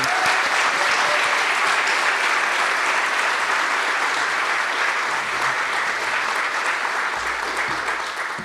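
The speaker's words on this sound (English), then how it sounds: "give a final applause for all of our artists who participated and all of you for coming" An audience at an arts celebration gives a final round of applause for the participating artists, sustained dense clapping at full volume that tapers slightly near the end.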